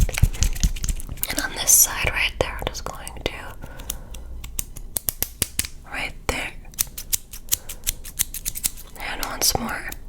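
Scissors snip hair close to the microphone during an ASMR haircut, sharp rapid clicks coming in quick bursts under a soft whispering voice.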